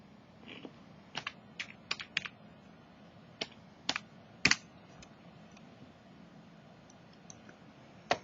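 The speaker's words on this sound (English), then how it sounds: "Let's type that in." Light typing on a computer keyboard: scattered single key taps and short clusters of clicks, quiet and close over a faint hum, with no one speaking.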